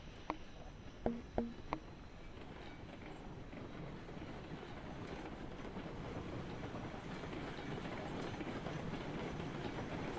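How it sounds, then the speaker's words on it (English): A train in the video game Railroads Online rolls along the tracks with a steady, building rumble and rhythmic clickety-clack, a few sharp clanks at the start. "But, yeah, we have a train."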